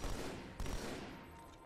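Rapid turret gunfire in Halo 2 Anniversary rattles in a short dense burst, fairly close and steady, then trails off, with no voices over it.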